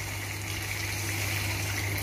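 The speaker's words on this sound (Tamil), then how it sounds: "இப்போது ஒரு கிளாஸ் தண்ணி" Water from a glass pours steadily into a pot of simmering chicken curry, a continuous close gushing splash with a low hum beneath, no talking.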